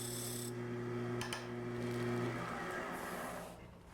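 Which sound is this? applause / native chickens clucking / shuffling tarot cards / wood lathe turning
wood lathe turning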